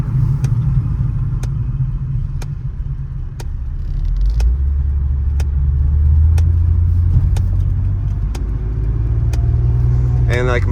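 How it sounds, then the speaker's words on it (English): The blower motor in a 2003 Mercedes C320 coupe ticks steadily about once a second, sharp and regular over a low engine rumble and people talking inside the car. "you obviously hear the blower motor tick"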